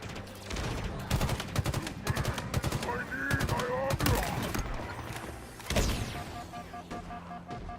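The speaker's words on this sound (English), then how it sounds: "who's shooting me from behind?" Rapid automatic gunfire in the Halo Infinite campaign, dense bursts of close shots mixed with distant fire and impacts, with game sounds layered throughout.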